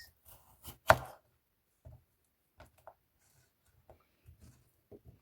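A few sparse knife chops through cucumber slices for a smoothie, one sharp louder cut near the start followed by scattered quiet taps on a board, with no talking.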